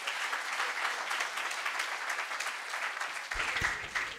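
An audience at a marketing presentation applauds steadily after the talk ends, a dense patter of many hands that continues evenly for several seconds, moderately near.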